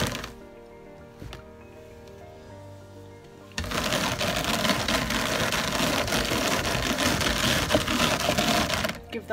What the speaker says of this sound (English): Give that another quick carding before I add my embellishment.